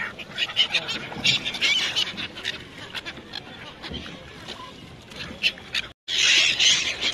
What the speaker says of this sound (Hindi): देखिए क्या चिड़िया उड़ के खा रही है